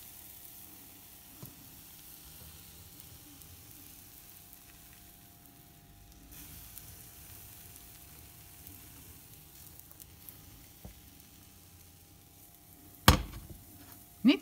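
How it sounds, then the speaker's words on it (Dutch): Pancake batter frying in hot oil in a pan gives a faint, steady sizzle throughout. Near the end comes a sharp, loud clatter, with another knock right at the close. "Voorzichtig je pannenkoekenmix erbij gieten."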